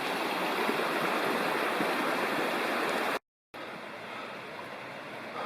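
Watershed Creek flows in a steady, close, broadband rush in wilderness backcountry, with a brief gap of silence partway through before the water noise resumes.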